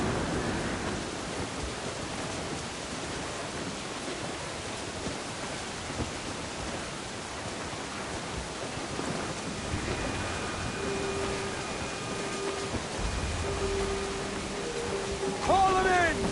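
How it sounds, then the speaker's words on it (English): Stormy weather in the pirate video game Assassin's Creed 4 Black Flag: steady wind-driven rain noise and a low rumble fill the scene, with some tonal effects and speech in the later part. "Storm, Captain! Looks bad!"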